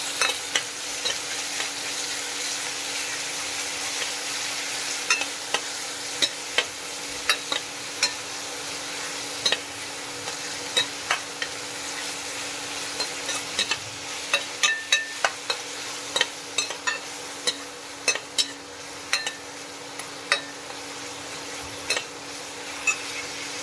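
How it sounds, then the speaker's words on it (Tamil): Onions and garlic sauté in a hot pan with a steady close sizzle, punctuated by frequent sharp clicks and scrapes of a spoon stirring against the pan, especially in the latter half. "வெங்காயமும் பூண்டு போட்டு நல்லா வதக்குறேங்க"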